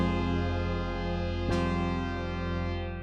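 Sustained trap chord progression with a suspended chord programmed in FL Studio, quiet and steady, one chord change midway with a brief bright transient, no voices.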